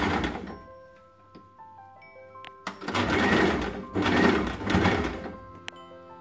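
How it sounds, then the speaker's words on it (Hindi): A sewing machine stitches a long front-slit kurti in two or three short bursts of rapid mechanical whirring, with scattered clicks and thunks of handling the fabric between runs. "इसी तरीके से सारे पॉइंट पे आप सिलाई लगा दीजिए।"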